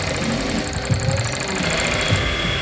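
A sewing machine stitches strips of mink fur together for a coat, running in a steady mechanical hum with a continuous rhythmic rattle, close and alone without voices.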